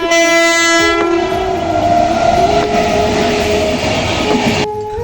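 Train passing Bhogpur railway station on the Howrah–Kharagpur line, with a loud sustained multi-tone horn blaring over the rumble of rail cars, steady and close throughout before cutting off near the end.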